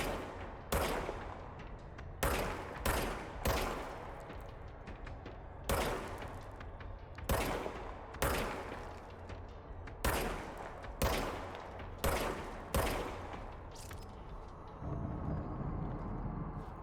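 Repeated gunshots from the service weapon in the video game Control, a dozen or so sharp loud cracks fired in irregular bursts, each with a short decaying tail, over a low steady background hum, with no talking.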